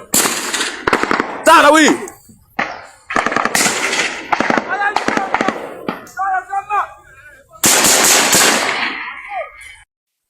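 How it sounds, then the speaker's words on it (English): Rapid bursts of gunfire crackle loudly in repeated volleys, with shouting voices between and over the shots. "These are gunshots everywhere."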